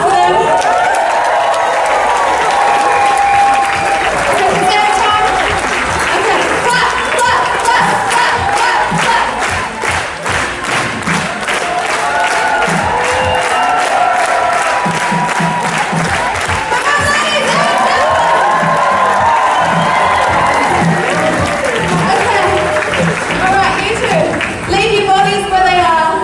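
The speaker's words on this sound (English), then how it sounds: "Clap for them." Festival audience claps and cheers for a knife-juggling act with volunteers at Woodford Folk Festival, a dense, steady roar of applause and shouts that lasts throughout, mixed with crowd voices.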